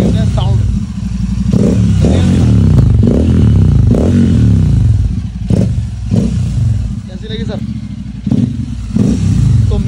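A Royal Enfield Super Meteor 650 motorcycle with its exhaust dB killer removed, a loud, raw exhaust note, idling and revving in bursts up close, with some clatter in the background.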